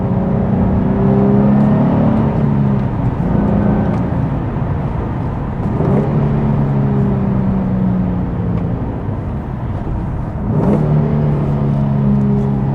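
Nissan 350Z engine rumbling steadily while driving on open back roads, with rising and falling revs as gears shift down, loud and continuous with no talk.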